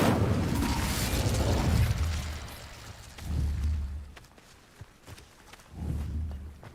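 Incendio fire spell cast in Hogwarts Legacy, three whooshing bursts of flame with low rumbling roars, each fading out, separated by soft clicks and light ambient game noise.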